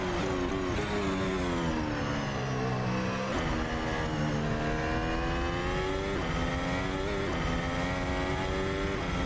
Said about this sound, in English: He's deep in my slipstream. I can't defend against Carlos.